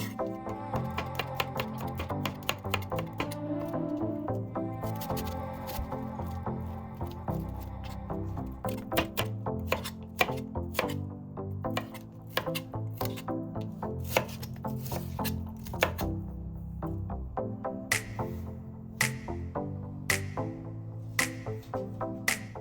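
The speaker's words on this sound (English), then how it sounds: "I'm chopping some curry leaves, garlic, onions." Rapid knife chopping of curry leaves, garlic and onions on a cutting board, a long run of quick sharp taps with a steady rhythm, close and clear with no talking.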